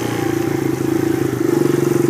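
A 150cc dirt bike engine runs steadily at a strong, even idle-to-rev pitch on a hill spot, close and loud throughout with a pulsing exhaust beat and no talking.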